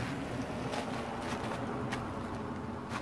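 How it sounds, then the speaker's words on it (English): Outdoor wind blows across the microphone in a continuous, even rumble of noise with occasional soft gusts. "It's a little windy out here"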